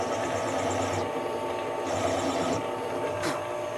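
A drill press or similar machine cutting a chamfer into a drilled hole before tapping, a steady close mechanical whir and hum with slight rhythmic variation and a brief sharper accent near the end.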